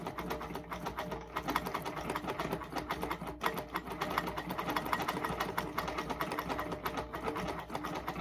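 A sewing machine doing ruler-guided free-motion quilting on flying geese blocks, with glide thread and a size 80 sharp needle, runs in a steady rapid needle chatter that stays loud and continuous throughout, with no pauses.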